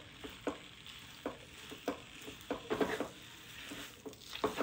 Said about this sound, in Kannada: ತುಪ್ಪವನ್ನು ಹಾಕಿ ಸ್ವಲ್ಪ ಫ್ರೈ ಮಾಡೋಣ